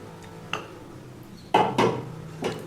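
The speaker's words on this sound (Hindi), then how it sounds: "और इसे घोल करके इसका कनाश बनाती हूँ" A spoon clinks against a cup while dark chocolate compound is stirred into hot milk to make ganache: a few sharp taps and scrapes, close and clear, with quiet pauses between.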